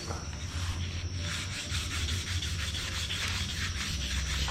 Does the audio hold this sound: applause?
no